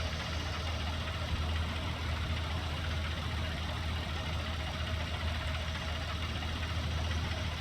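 A mower engine from Farming Simulator 19 runs at a steady drone, loud and even throughout, with a constant low rumble and broad mechanical hiss.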